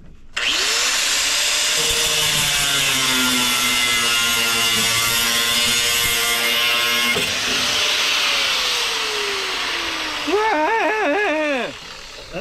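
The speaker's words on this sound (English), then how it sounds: "Who's gonna cry about me cutting this gas tank strap?" A power tool cuts through a rusted gas tank strap on a Triumph TR3, a loud continuous whine with a falling pitch that cuts out near the end, with some voice over it.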